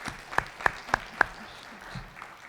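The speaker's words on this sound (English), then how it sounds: "Let's do a round of applause." Applause at a school board meeting heard as four sharp, evenly spaced handclaps from a single clapper, close and fairly loud against a quiet room, then stopping abruptly.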